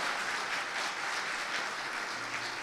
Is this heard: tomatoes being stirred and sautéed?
no